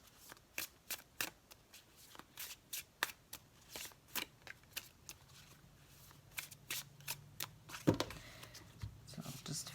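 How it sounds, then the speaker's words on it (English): A tarot deck is shuffled and fanned out close by, a series of quick, crisp riffling snaps in an irregular rhythm at a soft level, with faint background sound between them. "So I'll just fan the cards out"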